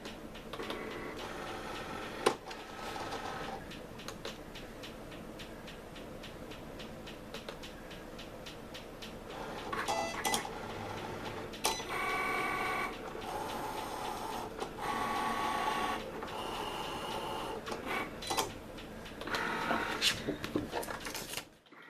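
A Cricut Explore cutting machine loads a mat and runs, giving a steady mechanical whir broken by repeated clicks, rattles and motor surges, moderately close and clear.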